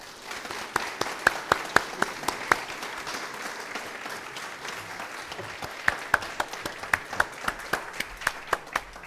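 An audience applauds to welcome a speaker at a campus talk, a dense sustained clapping that swells and then thins into a few louder individual claps near the end.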